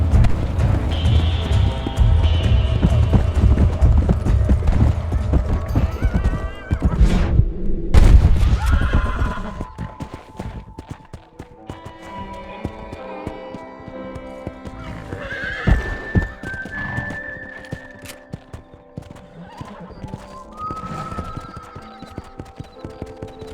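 Horse in the video game Red Dead Redemption, with steady clip-clop hoofbeats of galloping and sharp whinnies and neighs rising above the thudding, loud and close throughout.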